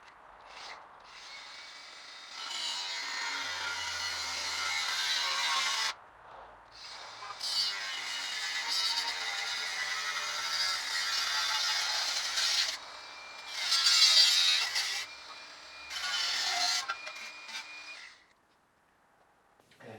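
A grinder cuts through a wardrobe sliding door, a loud, close, high whining rasp in several long bursts with short pauses between them, then winding down to silence near the end.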